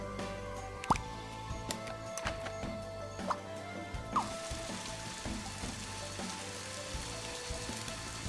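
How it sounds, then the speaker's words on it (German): Sparse rain drips plop at irregular intervals in the video game Scribblenauts Unlimited, over a low steady background hum, with faint sizzling texture in the second half. "Wasser, Regen. Hier, guck mal, ein Regentropfen."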